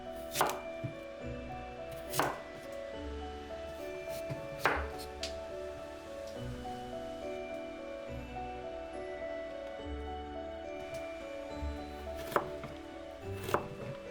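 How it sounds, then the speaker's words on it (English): A knife chops daikon and carrots into matchsticks on a cutting board, a steady run of crisp, close knocks at an uneven pace, with soft music playing underneath. "Let's chop the daikon and carrots into matchsticks"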